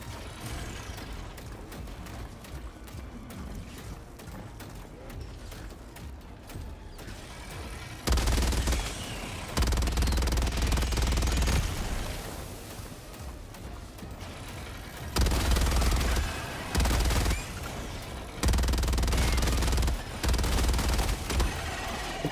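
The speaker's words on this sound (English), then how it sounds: "Do you not want to hear the bass of the explosions?" Gunfire and explosions in the game DayZ: bursts of rapid shooting and booming blasts with deep bass, separated by quieter stretches of rumbling background.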